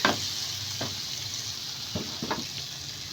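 A spatula stirs salted vegetable fried rice in a hot pan over a soft frying hiss, with a few distinct scraping strokes close by.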